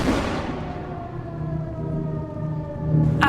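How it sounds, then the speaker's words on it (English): A wartime all-clear air raid siren over Coventry holds a steady, sustained wail with stacked harmonics, loud and continuous throughout with no talking. "the all-clear siren sounded the following morning"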